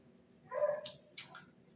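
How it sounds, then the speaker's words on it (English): A dog gives two short, sharp barks about half a second apart, moderately loud against a quiet indoor background. "Dog."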